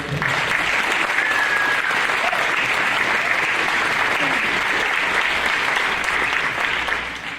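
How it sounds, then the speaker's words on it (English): Sustained, dense applause from an audience at a school band's 100th anniversary concert in an auditorium, loud and steady for about seven seconds before tapering slightly at the end. "So it's a big round of applause for Drury."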